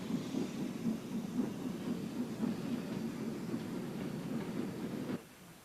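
An Alco Cooke 2-6-0 steam locomotive, 104 years old and formerly Southern Railway number 2500, rolls steadily with a continuous rumbling clatter of wheels and rail joints, fairly close, before the sound cuts off abruptly near the end.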